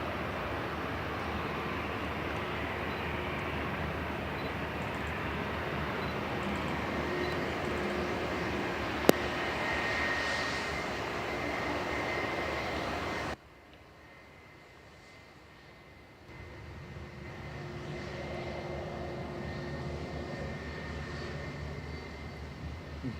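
An SAS jet in breakup livery, the former Star Alliance aircraft, produces a steady, moderate jet rumble at Manchester Airport. A sharp click cuts through partway, and then the level drops abruptly before a quieter engine hum returns.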